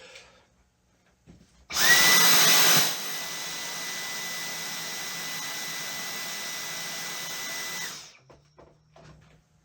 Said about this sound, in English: So next up, let's try this Dyson here. So I've got it on the boost setting.